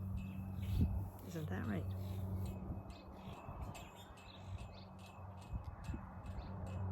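Robins chirp in short, repeated high tweets scattered through the stretch, fairly faint, while a person speaks softly nearby over low background rumble.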